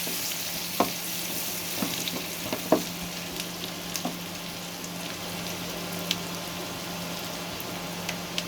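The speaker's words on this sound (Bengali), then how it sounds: "ভালোভাবে পেঁয়াজগুলো ভেজে নেব।" Onions fry in a pan with a constant close sizzle, dotted with occasional small pops and the odd stirring knock.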